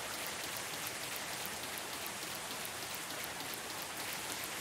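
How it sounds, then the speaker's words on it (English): Steady rain falls in a graveyard, a dense, even hiss of drops on surfaces that carries on without pause at moderate level, with no voices. "It's raining."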